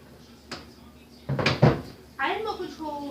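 A home oven door is opened in a kitchen: a light click, then a louder clunk and rattle of the door as it swings down, followed by a person beginning to talk.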